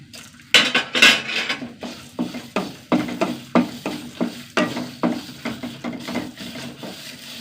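A tablespoon of raw white rice dry-roasting in a pan, crackling and popping as it heats, with a steady run of sharp clicks and scrapes from stirring, close and fairly loud with no talking.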